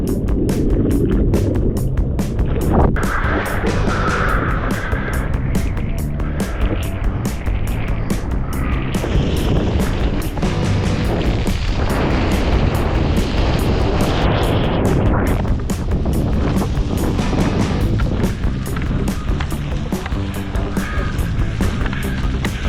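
Ocean waves breaking at a surf spot, a continuous loud wash of churning water and rumble throughout with no talking.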